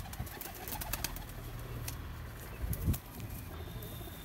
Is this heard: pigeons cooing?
yes